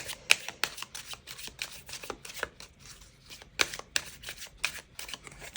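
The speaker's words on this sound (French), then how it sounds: "On va aller tirer quelques cartes pour vous." A deck of Lenormand cards is shuffled up close, with quick riffling bursts and crisp card slaps in an uneven rhythm and no talking.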